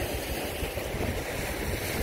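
Strong ocean waves at a beach roll in a continuous broad roar of surf mixed with wind buffeting the microphone, steady and fairly loud with no voices.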